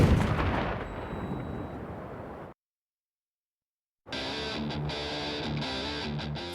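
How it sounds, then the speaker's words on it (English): Heavy artillery and live ammunition fire at an army desert training ground at Fort Irwin, California: loud, distorted booming blasts that cut off into silence, then resume as a dense rumbling barrage. "the soldiers will be using live ammunition and heavy firepower"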